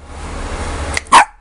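A single sharp dog bark, loud and close, comes just after a short yip, following a stretch of low background noise.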